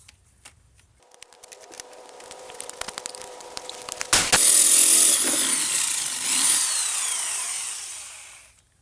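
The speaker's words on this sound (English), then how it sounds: "it's gonna need to be drilled bigger" Power drill boring a hole larger in a homemade racing mower build, starting with faint scattered clicks and knocks, then a loud grinding whine bursts in midway and holds before slowly fading.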